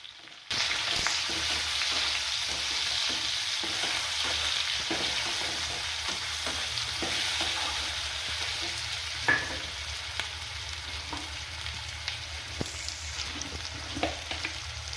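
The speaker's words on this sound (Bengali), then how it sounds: "এবার কুচানো পেঁয়াজ দিয়ে দেবো" Chopped onion fries with garlic paste in a pan, giving a steady, close sizzle that runs unbroken for the whole stretch, with occasional light spoon scrapes and taps.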